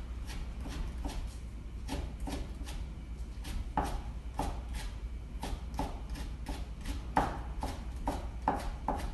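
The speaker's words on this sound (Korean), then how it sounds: "채를 썰어 주겠습니다" A knife julienning cucumber on a cutting board, a fast, regular run of crisp, close chopping taps that continues alone throughout.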